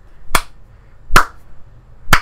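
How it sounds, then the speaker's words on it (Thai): Slow, deliberate hand claps in the Metal Gear Solid 2 video game: three sharp, crisp claps spaced nearly a second apart, loud and isolated against near silence. "ว่าแต่ใครแม่งปรบมือวะ"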